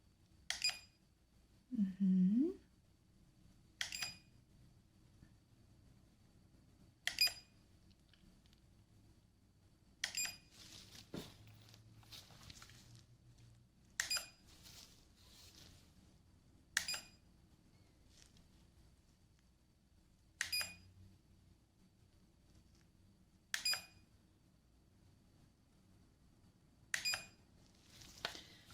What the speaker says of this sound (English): So I want you to tell me when you hear the beep, okay?